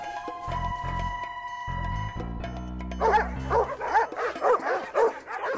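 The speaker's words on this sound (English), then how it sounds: "what is with those dogs of yours? Oh, you know dogs, all bark, no brains." Cartoon dogs bark in a quick run of repeated yips and woofs, loud and close, following a stretch of music and clattering sound effects.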